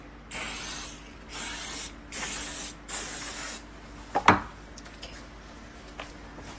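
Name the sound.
oil spray sprayed before air fryer cooking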